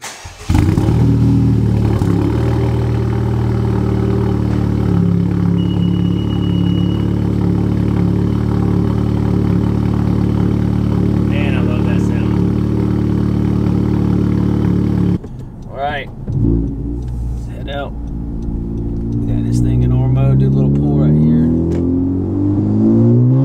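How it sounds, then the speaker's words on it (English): Car engine on an E85 tune cold starting and idling high and steady for about fifteen seconds, then cutting to sharp revs that rise and fall, close and loud. "get you guys a cold start."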